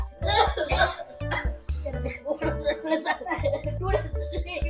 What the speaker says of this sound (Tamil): இப்படி இருமுறீங்க.